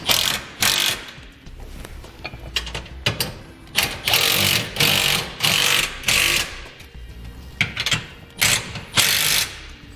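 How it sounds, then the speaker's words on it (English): A ratchet or power tool snugs down the jounce bumper nuts on Firestone Ride-Rite air helper springs on a 2017 Ford truck, producing loud, close, repeated mechanical bursts in a steady rhythm with brief gaps. "Now we'll snug down our jounce bumper nuts."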